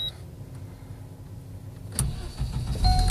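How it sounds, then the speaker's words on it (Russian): A UAZ Patriot engine turns over and catches at close range after a quiet moment, with a click and then a rising rumble. "Заводимся."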